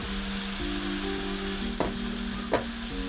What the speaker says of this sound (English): It's now sizzling, so I will add my ground pork.